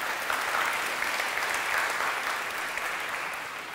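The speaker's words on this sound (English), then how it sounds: "So let's give him a clap offering again." Congregation at a church service giving a round of applause, steady dense clapping from a large group that fades slightly toward the end.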